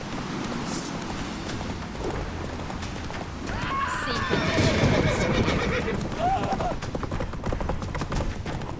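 Roach, a horse in The Witcher 3, gallops with thudding hoofbeats and lets out a loud neigh midway, amid game sounds and a voice speaking.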